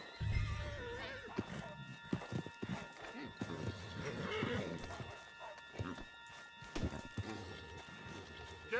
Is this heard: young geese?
no